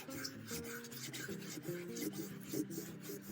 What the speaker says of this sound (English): You can feel it as you're sanding too.